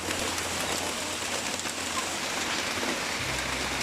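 Rain falls steadily over an outdoor range area for native chickens, a dense, even hiss of drops on surfaces that stays constant throughout with no voices.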